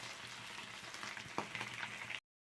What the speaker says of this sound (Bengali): মাছগুলো একটু কড়কড়া করে ভেজে নিতে হবে